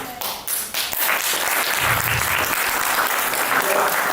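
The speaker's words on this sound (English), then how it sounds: "You're clapping yourselves." A lecture-hall audience of students applauds, loud continuous clapping that swells after a few scattered early claps and holds steady throughout.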